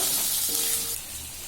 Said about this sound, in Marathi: भेंडी आपण छान परतून घ्यायची आहे 2-3 मिनिटं।